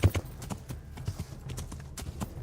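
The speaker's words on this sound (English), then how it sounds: "Okay, the horse is running." A horse galloping in the video game Kingdom Come: Deliverance, with rapid repeated hoof clops in an uneven rhythm, fairly close and steady throughout.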